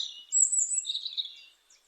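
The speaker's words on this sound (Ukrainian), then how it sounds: "звуки природи, пташки співають." A short run of bright bird chirps and trills, one sustained whistle-like note followed by a warbling phrase, close and unaccompanied, in a Carpathian mountain forest.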